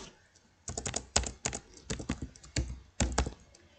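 Quick bursts of typing on a computer keyboard while entering text into an HTML form, close and clear with short clustered clicks and brief pauses between groups of keystrokes.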